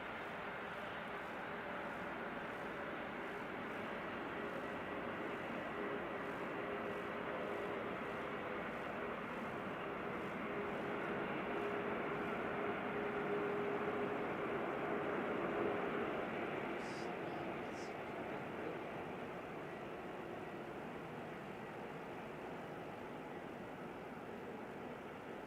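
A plane landing at Christchurch Airport in wet, rainy weather, heard as a steady, broad roar of jet engine noise with rain hiss, holding fairly constant and distant throughout without any speech.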